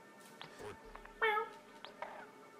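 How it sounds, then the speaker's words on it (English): A cartoonish cat meows in the video game Gato Roboto, one clear mid-length meow standing out among soft game blips and chirps, with a voice talking quietly nearby. "Kiki, my kitty."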